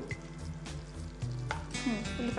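Onion pieces sizzle in a hot pan on a home stove while being stirred, a steady frying hiss with occasional scraping strokes and faint background tones.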